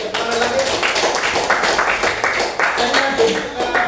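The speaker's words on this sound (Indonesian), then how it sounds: "Oke, tepuk tangan lagi." Children in a classroom clap together after a group presentation, a dense continuous patter of hand claps running throughout with some voices mixed in.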